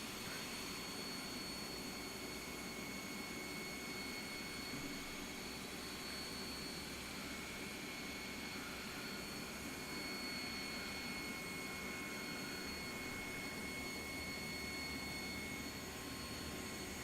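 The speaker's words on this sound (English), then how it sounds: "We'll start both engines." Jet engines on a ToLiSs A320neo in the X-Plane 11 flight simulator spin up in a steady, faint whine with a constant high tone over a low rumble, holding evenly without talk.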